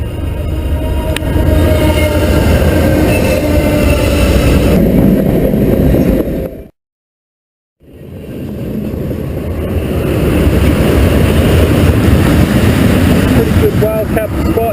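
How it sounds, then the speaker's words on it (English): A heavy freight train rumbles past loudly and close, broken by a brief silence partway through, then the roar continues. "right now I'm going to hide from this massive freight train"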